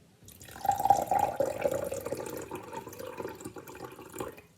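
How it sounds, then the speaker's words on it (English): Spring water pours into a glass, a close, clear trickle that rises in pitch as the glass fills, then tapers to a few drips, with no talk. "Now I'm going to pour the water in."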